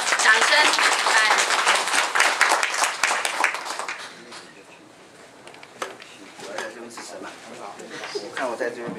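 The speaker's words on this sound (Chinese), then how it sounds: "掌声。" An audience applauds at the opening ceremony of a health-preservation committee gathering as the chairman is invited on stage. The clapping is dense and loud at first, fades after about four seconds, and is followed by quieter room noise and a few scattered sounds.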